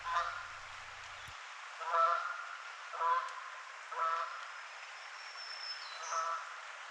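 A goose honks repeatedly while flying above the West Branch Susquehanna River, its calls coming in regular moderately distant bursts about once a second over a steady hiss of flowing water and wind.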